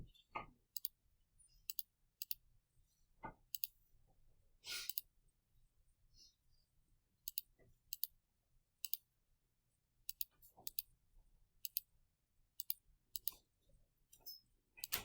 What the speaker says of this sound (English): So if I go and I type this into my calculator